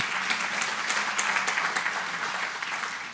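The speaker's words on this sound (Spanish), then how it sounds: "Un aplauso al Señor, qué hermoso." Applause from a church congregation rises steadily and fills the space, dense and sustained for a few seconds with no one speaking over it.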